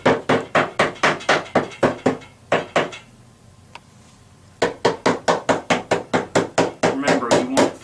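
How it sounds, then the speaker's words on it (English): Quick, evenly spaced hammer taps on wood in two bursts, separated by a short quiet pause, as cabinet drawer parts are tapped together during assembly. "you'll need the hammer to just tap it in there."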